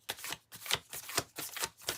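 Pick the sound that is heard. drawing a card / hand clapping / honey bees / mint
drawing a card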